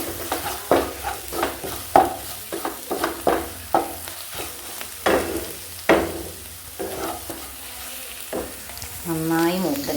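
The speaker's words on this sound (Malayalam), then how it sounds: "കടല വേവിച്ച വെള്ളത്തുടക്കനെ തന്നെ അങ്ങോട്ട് ഇടുകയാണ്" Cooked chickpeas and their cooking water tipped into a hot pan for chickpea curry, loud sizzling with repeated stirring scrapes and clanks, ending in a bubbling, burbling boil as the liquid hits.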